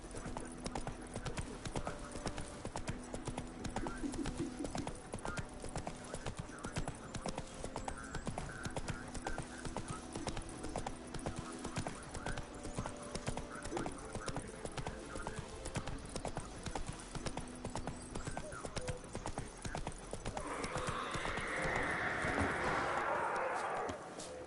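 Video game horse Roach trots with steady, rhythmic hoof clip-clops throughout, close and clear, with a short voice line and other game sounds mixed in near the end.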